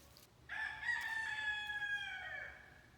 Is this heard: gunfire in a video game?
no